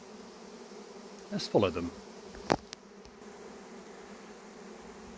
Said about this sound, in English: Bees normally move at about walking pace across the land